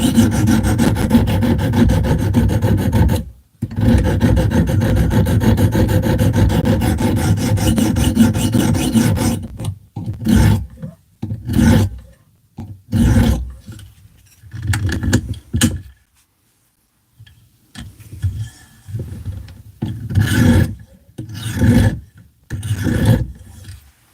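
A fixed-blade knife is drawn across a grit sharpening stone. A steady, close rasping scrape runs for about nine seconds, then breaks into a series of short, separate strokes with brief pauses between them.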